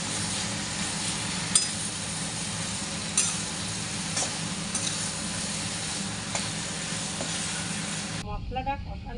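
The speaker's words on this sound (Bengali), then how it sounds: "মশলাটা কষানো হয়ে গেছে" Spice paste (masala) with green chillies and mango leaves fries steadily for a Bengali chicken curry, a continuous broadband sizzle with occasional stirring scrapes, close and loud, ending abruptly near the close.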